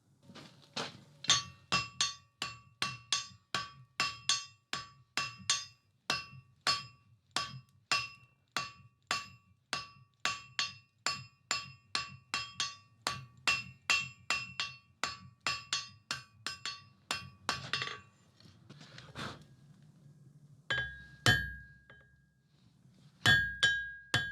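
Hot steel hammered on an anvil during forge welding for a fireside set's dragon head: a long, steady run of ringing metallic blows, close and clear, then a brief pause and a few scattered strikes.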